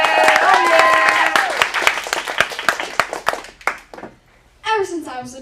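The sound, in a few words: audience applause for a stand-up comedian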